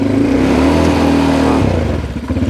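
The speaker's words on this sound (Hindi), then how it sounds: "अभी आप देखो लिटरली मैं आधा थ्रॉटल करने के बाद ही गाड़ी जाएगी।" An ATV quad bike engine revs at half throttle as the bike moves off, a loud close drone that holds steady and then drops in pitch as the machine pulls away.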